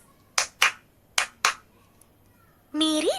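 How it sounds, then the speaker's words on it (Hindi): Four sharp hand claps ring out close by in two quick pairs, followed by a voice that begins speaking near the end. "ताली की आवाज।"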